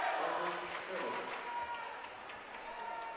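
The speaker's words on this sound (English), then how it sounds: "The crowd getting into it." Crowd noise at a Minot North versus Minot High varsity basketball game, a steady murmur of spectators rising in excitement, with commentators talking over it throughout.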